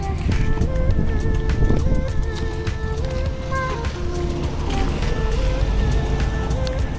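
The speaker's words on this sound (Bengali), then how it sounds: "আর এখানে প্রচন্ড ঠান্ডা হাওয়া দিচ্ছে।" Strong cold wind blows steadily against a Scorpio car driving on the Srinagar to Kargil road near Drass, a constant broadband rush with low engine rumble and occasional faint clicks and tones.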